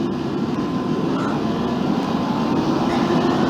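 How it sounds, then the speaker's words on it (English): A DLR train pulls away in the OpenBVE train simulator game, giving a steady, even rumble and hum with a faint tonal whine that holds at an unchanging level throughout. "Let me just get over here so we can watch the train depart."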